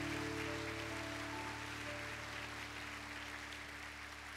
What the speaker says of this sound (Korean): 파워키즈 우리 어린아이들 다시 한번 큰 박수로 격려해 주시기 바랍니다.